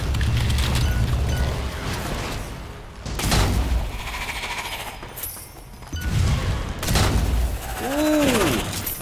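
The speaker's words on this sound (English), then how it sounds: "No match for my shotgun" A shotgun fires in Strange Brigade against ancient Egyptian enemies, with a few loud, heavy blasts spaced seconds apart over busy game noise and a short, wavering cry near the end.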